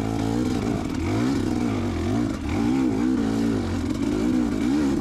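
Dirt bike engine revving while riding off-road trails in the woods, a loud, close motor rising and falling in pitch with repeated throttle changes, with no talking.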